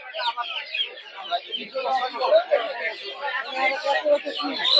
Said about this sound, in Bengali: দেখতে পাচ্ছেন সব হচ্ছে ফার্মি মুরগি